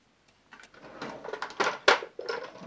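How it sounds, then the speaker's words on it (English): Live center removed from the tailstock of a wood lathe: a run of close, light metallic clicks, scrapes and knocks of steel parts being handled, with one sharper clack partway through. "And the banjo, I'll remove the live center."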